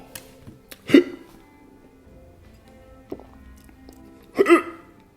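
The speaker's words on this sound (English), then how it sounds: "You got the hiccups?" Several short hiccups from a girl at home, two sharp ones near the start and end with a fainter one between, close and fairly quiet, with a few soft footsteps in the background.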